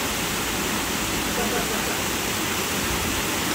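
Steady, dense rush of a waterfall in a Japanese friendship garden, a constant broadband roar filling the whole stretch without pauses or changes in level.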